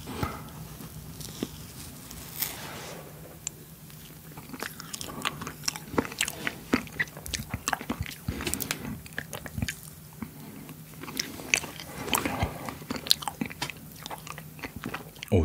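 Spoon scraping and soft bites of milk ice cream from a Seoul Milk cup, with small crunchy chewing sounds and clicks scattered through the quiet, close to the mic and without talk.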